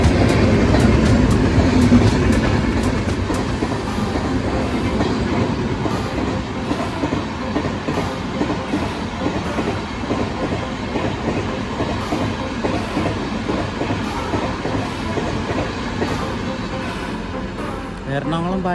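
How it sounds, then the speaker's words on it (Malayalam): A train rolls into a station near Ernakulam, its steady rumble and rhythmic clickety-clack of wagons running loud and continuous throughout, with faint voices in the background. "ഇവിടെ ട്രെയിൻ വരുന്നുണ്ട്."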